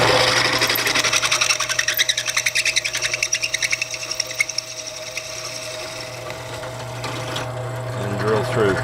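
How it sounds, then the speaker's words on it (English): A drill press bores through a metal T-nut held in vice grips, giving a steady, loud, rapidly pulsing grind that eases off toward the end as a voice starts. "Turn on the drill press."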